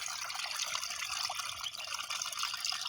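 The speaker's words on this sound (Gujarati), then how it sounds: "આ જોઈને સમજ આવે છે કે પાણી આવી રીતે તૂટે જુઓ" Water rushes and gushes continuously, a steady close churning flow with no voices.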